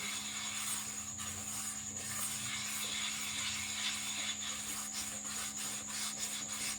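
Steady scrubbing of a burnt, blackened aluminium kadhai with a scrubber gives a continuous rough rasping and rubbing, close by and fairly quiet, with faint regular strokes over a low background hum.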